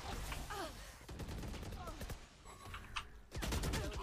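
Video game gunfire in a shooter match, rapid bursts of shots running throughout at moderate level, mixed with game effects and a voice talking over it.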